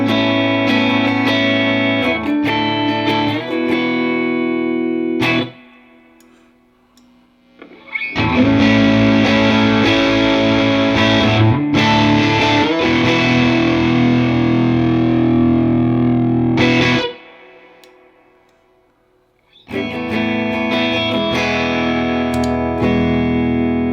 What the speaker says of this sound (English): Let's take a look at it kind of excelling in those two extremes here, from like almost like a low gain to an almost distortion spectrum here.